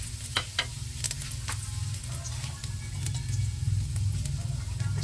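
Ginger hits very hot oil in a pan and sets off a loud, busy sizzle. Sharp spattering crackles come early, then a dense frying hiss holds steady to the end.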